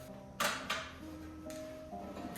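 A wooden drawer box pushed onto Blum Movento undermount slides gives two quick, quiet clicks near the start, followed by faint low hum in a workshop.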